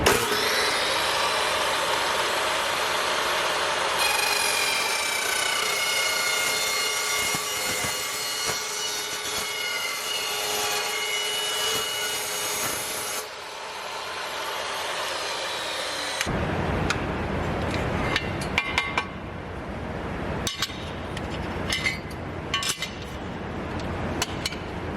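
A dry-cut steel cold saw makes a 45-degree sample cut, a loud steady grinding whine with metallic ringing tones that stops abruptly, followed by quieter clanks and handling knocks.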